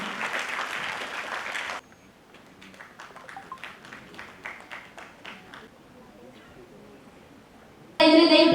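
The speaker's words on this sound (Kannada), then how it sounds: "ದಯವಿಟ್ಟು ಎಲ್ಲರೂ ಚಪ್ಪಾಳೆಯ ಮೂಲಕ ಅವರನ್ನು ಸ್ವಾಗತಿಸಬೇಕಂತ ವಿನಂತಿಸಿಕೊಳ್ಳ" At a Savitribai Phule teachers' association ceremony, a short burst of light, scattered clapping follows a stretch of loud speech, with a voice returning at the end.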